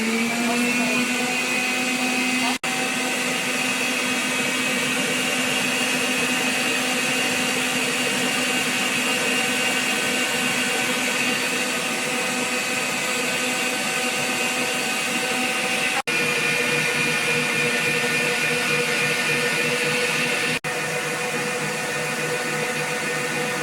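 An electric mixer runs at medium-high speed for a long stretch, beating sponge cake batter of egg yolks and water with a steady loud motor whine and a few brief dips, no voices.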